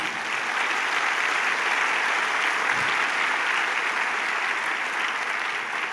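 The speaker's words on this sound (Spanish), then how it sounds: "Dale un aplauso a Jesucristo" A church congregation applauds during a devotional service, a dense, loud, continuous roar of many hands clapping that holds steady from start to finish.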